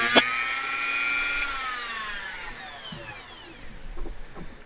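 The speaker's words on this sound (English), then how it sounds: "Okay, Dremel sounds." A Dremel rotary tool whines at high speed on a workshop project, its pitch sliding down as it spins to a stop, followed by faint handling clatter.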